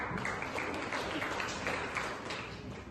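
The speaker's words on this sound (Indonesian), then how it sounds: "Tepuk tangan untuk Roja." Classroom applause for a top-scoring student in an Indonesian lesson, a steady patter of many hands clapping throughout, moderately near and fairly even in level.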